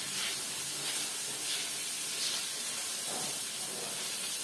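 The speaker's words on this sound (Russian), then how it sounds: "жарю до румяной корочки мяско" Constant hissing sizzle of meat frying in a hot pan for kharcho soup, close and steady, with soft crackles rising and fading.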